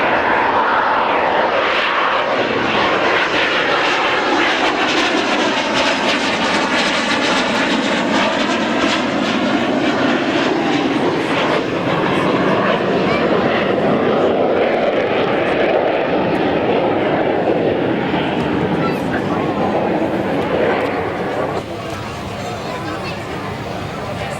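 Aircraft at an air show at Baldonnel in June 2000, a loud sustained engine roar with shifting, sweeping pitch as it passes, with a commentator talking over it.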